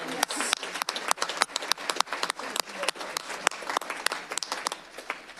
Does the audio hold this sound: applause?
yes